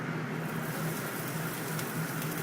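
Red onion and cremini mushroom sauté in a pan, giving a soft, steady crackling sizzle that runs evenly throughout at a moderate level with no talking.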